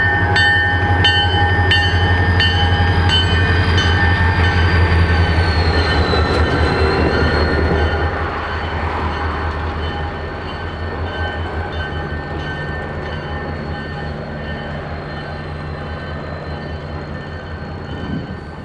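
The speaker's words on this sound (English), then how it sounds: "We arrived to see 301 moving a GP40 number 3107 to a different track." An SD40-2 locomotive, WCOR 301, built in 1972, switches a GP40 number 3107 to another track in a shop yard; a steady diesel rumble with high wheel squeal and tonal whine, easing slightly partway through.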